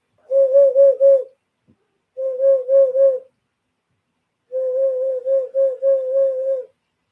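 A human voice imitates an owl hoot, giving three separate runs of low, breathy, rhythmic hoo-hoo calls with short pauses between, close and clear with no talk.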